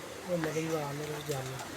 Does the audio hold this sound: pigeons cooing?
yes